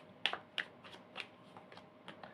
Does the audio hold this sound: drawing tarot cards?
yes